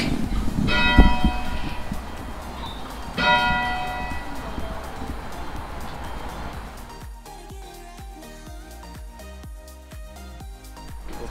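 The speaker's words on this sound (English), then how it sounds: "You can see the actual bell just right there." A large church bell rings in the belfry tower of Vilnius Cathedral, heard up close. Two loud strikes ring out and hum away slowly, followed by softer clattering noises.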